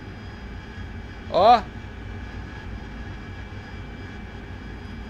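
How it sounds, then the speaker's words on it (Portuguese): A steady jet-engine drone from an AV-8B Harrier in the flight-simulator game DCS runs through the whole stretch, with a short voiced exclamation rising briefly over it. "Ah, tá escutando o som aí? Olha o novo som do motor."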